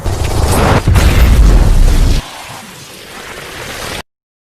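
A bomb blast from the film Edge of Tomorrow, where a soldier detonates an explosive over an alien: a loud, sustained roaring boom with rumbling low end for about two seconds, then a quieter, thinner tail that cuts off abruptly.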